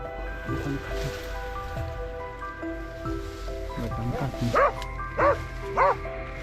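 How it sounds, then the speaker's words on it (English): Several hunting dogs bark in short bursts near a rice field during a wild boar hunt, with a cluster of loud, sharp barks near the end over steady outdoor background noise. "the sudden barking of hunting dogs signaled the beast's location"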